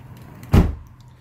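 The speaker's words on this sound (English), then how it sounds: "All right, you close the door." A single bathroom door in an RV trailer shuts with one short, fairly loud thud close by, followed by brief quiet.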